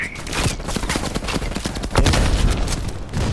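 Rapid, continuous bursts from a machine gun in the Call of Duty Cold War campaign, loud and close, firing in a steady dense rattle with explosions underneath and little pause.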